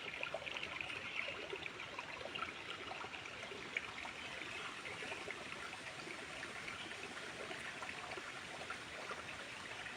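Water trickles steadily along a shallow forest stream running low, a continuous soft babbling wash with no voices, even and unbroken throughout.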